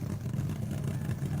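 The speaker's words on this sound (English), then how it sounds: "Listen to that Ram Charger's motor. Just crisp and clean." A 1970s Ram Charger funny car engine rumbles at a drag race, a loud, steady low growl that holds for the whole moment with no talk over it.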